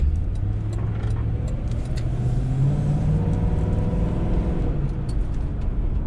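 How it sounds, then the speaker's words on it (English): A car bought at auction drives along, its engine rumbling steadily up close for the full stretch, with tire and road noise underneath and a faint rise in pitch as it picks up speed. "Now it's time to drive the car."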